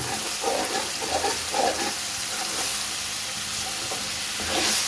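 Tomato masala for chicken curry being stirred in a hot pan, with repeated close scraping strokes in a loose rhythm over a continuous sizzle, no voices.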